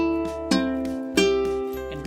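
A ukulele in tune, strummed a few times in a relaxed rhythm with chords ringing between strokes, close and clear with no voice.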